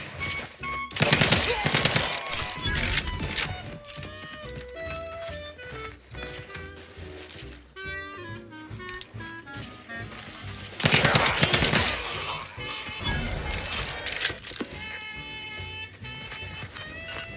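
A video game firefight with sniper fire: rapid bursts of automatic gunfire come in loud clusters, with quieter gaps of music-like game tones between them.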